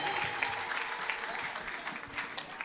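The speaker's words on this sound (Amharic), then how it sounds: "ለጌታ ክብር ጭብጨባ" Congregation at a church gathering breaks into sustained applause, a dense, even wash of many hands clapping at moderate volume, with voices calling out in the background.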